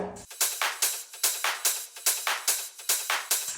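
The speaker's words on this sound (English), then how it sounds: "2 drum loops, a ride, a clap and a snare" Two layered electronic drum loops plus ride, clap and snare, with bright, hissy hits pulsing evenly about every half second, cymbal and clap textures dominating, no voices.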